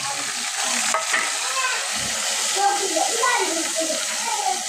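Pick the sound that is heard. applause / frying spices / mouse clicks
frying spices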